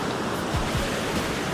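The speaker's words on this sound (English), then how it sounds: "the waves keep getting taller" Ocean surf at Ruby Beach, Washington, a continuous loud wash of breaking waves with some wind rumble, no voices.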